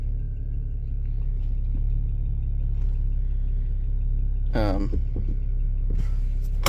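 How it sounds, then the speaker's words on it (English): A 2007 BMW 335xi under repair rumbles at idle as it is shifted into drive, a steady low engine drone up close, with a brief mechanical clunk and someone talking over it. "Let me put this into drive and see if we got a transmission."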